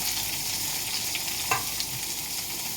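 Onions sizzling in coconut oil in a pan as part of a beetroot curd dish, a steady broadband frying hiss throughout with a brief stir around the middle, no talk.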